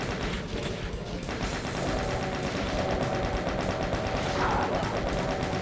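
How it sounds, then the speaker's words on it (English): Rapid rocket launcher blasts in the video game DOOM, a dense, loud run of booming shots and explosions filling the whole stretch with almost no pause. "So why don't we go ahead, fire off a couple of blasts."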